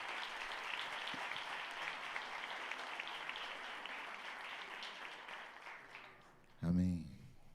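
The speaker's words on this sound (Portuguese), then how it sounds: "E você pode aplaudir Jesus?" A church congregation applauds during a Sunday celebration service, steady dense clapping filling the room for several seconds before it fades and a voice speaks briefly at the end.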